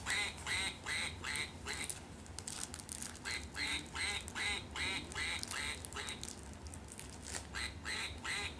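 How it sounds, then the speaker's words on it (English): A squeaky duck toy quacks over and over in quick bursts, close and fairly loud, with a crinkly rustle in places and no talking. "toy quacks."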